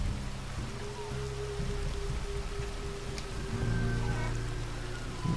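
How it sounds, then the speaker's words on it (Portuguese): Heavy rain in Red Dead Redemption 2, a dense, steady hiss of downpour with a low rumbling undertone that fills the scene without pause, no voices over it. "a gente chega no local, começa a cair um pé d'água"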